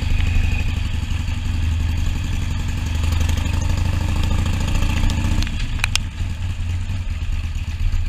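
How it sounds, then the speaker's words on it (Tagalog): A Harley-Davidson Iron 883 motorcycle engine runs with a loud, close, steady rumble during a ride. Its tone shifts about two-thirds through, ending with a lower, rougher idle-like sound. "Nasakyan ko yung pangarap kong motor."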